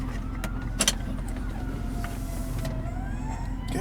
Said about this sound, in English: Ambulances and fire trucks rolling all through town.